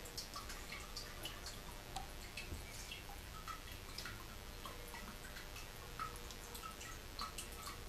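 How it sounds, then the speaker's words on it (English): Faint, irregular dripping and trickling of herbal infused oil poured through cheesecloth, soft and close, with a steady low background hiss and no talking. "I'm going to go ahead and pour my oil."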